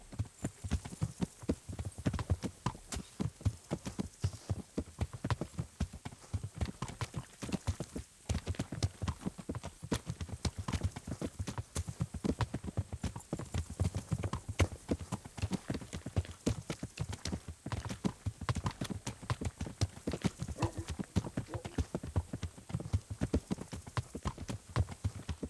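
Horse hooves clip-clopping steadily during a long ride in Kingdom Come: Deliverance, a brisk regular rhythm of close hoofbeats over a faint ambient hum, continuing without break.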